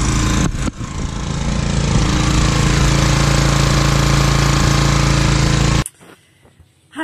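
A sailboat's small inboard engine runs loudly and steadily with a rough, chugging clatter, then cuts off abruptly, leaving quiet background noise.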